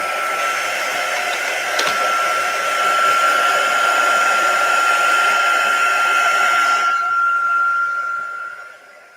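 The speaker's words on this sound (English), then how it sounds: "I'm going to just throw some heat on that quick. So that way it dries." A heat tool drying glue on a junk journal page blows with a loud, steady whine and rushing air, close up and alone, for about seven seconds before shutting off and fading.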